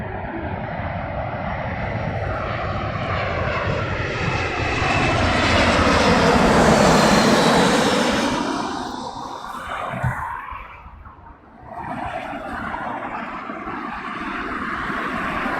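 A BEA retro-livery airliner passing at London Heathrow Airport, its jet roar building steadily, peaking loud and near, then fading away as it moves off, with no one talking.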